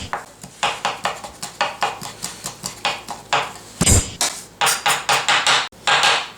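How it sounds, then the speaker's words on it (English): A knife chops garlic on a cutting board with quick, regular, close thuds in short bursts, then a brief pause before the chopping resumes. "first let's chop up the garlic"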